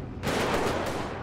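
A burst of gunshots in GTA 5 during a police patrol, one loud sharp crack followed by a short rattling tail, with no talking.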